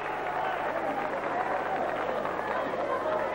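A wrestling arena crowd roars for Bill Torontis as he tries to finish off local favourite Bobby Gray, a steady, dense wall of shouting and cheering that holds loud throughout.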